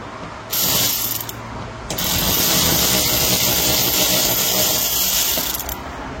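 A ratchet loosens Torx 20 screws on a mud flap guard near a vehicle's wheel, giving two loud, rapid bursts of clicking close up, the second long and steady, with no voices.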